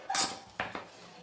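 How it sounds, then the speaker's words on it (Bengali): A spoon mashes boiled potatoes in a mixing bowl, making three short metallic clinks and scrapes against the bowl, close and crisp, with quiet gaps between them. "আলুগুলোকে আমি একটা স্পুনে করে খুব ভালো করে"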